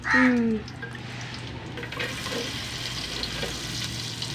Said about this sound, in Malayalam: ഇതിലോട്ട് വലിയ ഉള്ളി ഇട്ട് കൊടുക്കട്ടെ